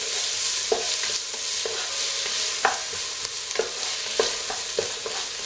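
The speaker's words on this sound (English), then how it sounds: "Stir fry the onions so they caramelise." Onions stir-fried in a pan over medium-low heat for a shepherd's pie give a steady, close sizzle, broken by short scraping knocks as they are stirred every second or so.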